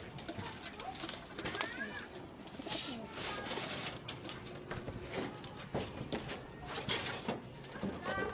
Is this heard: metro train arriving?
no